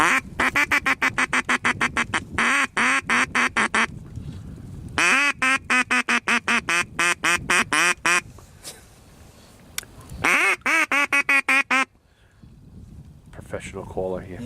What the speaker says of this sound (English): There's like 6 flocks of ducks coming.